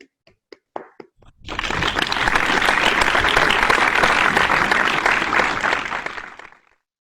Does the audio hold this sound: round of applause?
yes